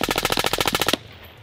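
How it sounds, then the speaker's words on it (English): A real machine gun fitted with a suppressor fires a rapid burst of about a dozen loud, evenly spaced reports, then cuts off abruptly into quiet. "What I have here is a real suppressor mounted on a real machine gun."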